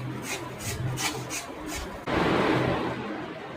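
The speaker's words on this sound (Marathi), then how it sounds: "साईडनी दुधी किसून घ्यायचा" Bottle gourd (dudhi) is rubbed against a grater in quick rhythmic rasping strokes, several short scrapes followed by a denser, louder continuous scraping, close and alone.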